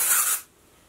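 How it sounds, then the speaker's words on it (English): A short, close burst of hissing dry shampoo aerosol spray at hair roots that cuts off after half a second, followed by a faint rustle. "go in with a little bit of dry shampoo and I'm just going to blast that"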